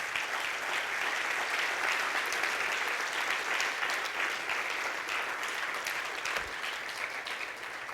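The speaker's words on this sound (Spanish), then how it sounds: "Dele un aplauso en esta mañana al Señor." A church congregation applauding during a Sunday service, sustained dense clapping from a large crowd filling the whole stretch at an even level, with no talk over it.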